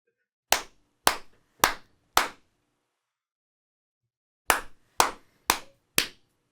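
Close, crisp hand claps in two bursts of four evenly spaced claps, with a pause between the groups and silence around them.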